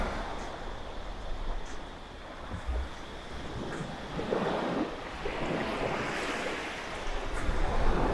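Surf washes steadily onto a beach in Phuket, a continuous rushing roar of breaking waves mixed with low wind buffeting against the microphone, with no voices.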